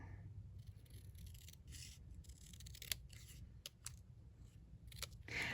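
Scissors trim patterned designer paper for a handmade card, giving a run of crisp, close snips and paper rustles spaced irregularly across a quiet room, with no talking.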